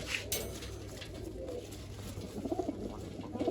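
Domestic pigeons cooing nearby, several soft, low, throaty coos clustered toward the end over a faint background hum and rustle.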